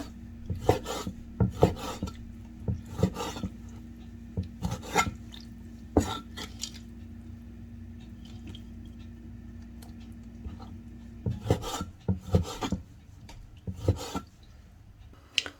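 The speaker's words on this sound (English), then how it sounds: "I'm going to cube them up into small pieces" Knife cutting chicken breast strips into small cubes for a hot and spicy soup, giving a run of brisk, close chopping taps against a board in uneven bursts, with quieter scraping between them and no talk.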